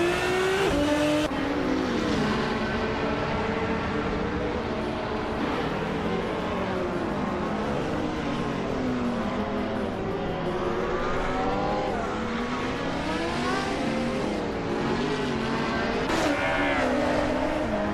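Race cars overtaking on a tight-cornered track, their engines whining loudly and continuously, pitch rising and falling as they accelerate and brake through the corners, with no talking.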